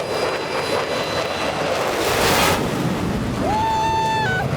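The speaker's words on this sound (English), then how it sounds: "They perfectly synchronized the passage of the planes with the end of the anthem." Aerobatic patrol planes pass over Daytona speedway at the end of the anthem, a broad roaring jet rush that swells in the middle and fades, with a sustained whistle-like tone entering near the end.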